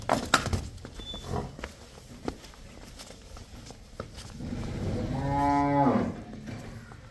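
Cattle on a farm, buffalo and cows, give a few low calls, with one long drawn-out moo standing out near the end over shuffling and yard noise.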